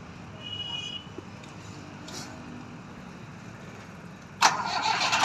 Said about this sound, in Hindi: साउंड सुनिए यार, कितना प्यारा साउंड है ट्रैक्टर का।